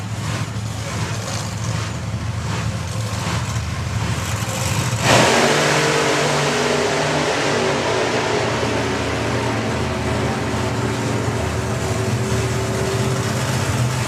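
Supercharged altered drag cars launching side by side at a hot rod drag strip: engines idle and rumble, then a sudden violent blast of roaring exhaust erupts and stays loud as the cars accelerate away.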